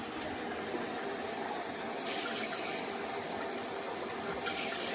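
Tap water runs steadily from a faucet into a container, a dense continuous hiss and gush that stays loud and close for several seconds with a slight surge partway through.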